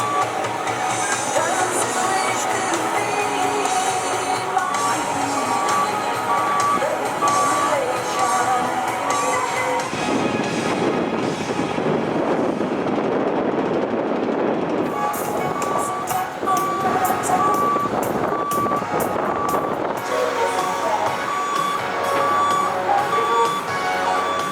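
Construction site for a roller coaster build at Universal Orlando, with machines backfilling dirt; a steady repeating reversing beep rings out over continuous heavy engine rumble and site noise, loud and near throughout.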